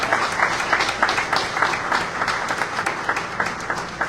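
Crowd at a community grocery store opening in Frog Hollow applauds steadily, dense overlapping claps with some cheering, sustained and fairly loud throughout without a break.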